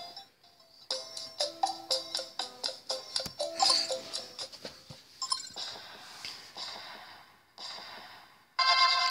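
A chiming game sound effect from the Pocket Mortys video game, played after a heal command, comes as a series of bright, rapid tonal blips and jingles, loud and close, with no talking.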